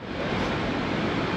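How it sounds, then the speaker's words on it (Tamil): River water rushes steadily at Manneera waterfalls in Konni, Kerala, a loud, even broadband hiss with no pauses and no voices. "அருமையாக போகுது தண்ணி"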